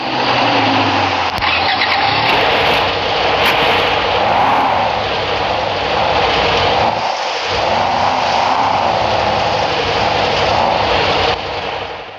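Mercedes G-Class engine in a video game, starting up and then revving loudly and continuously with rising and falling surges, close and dominant with no talk over it.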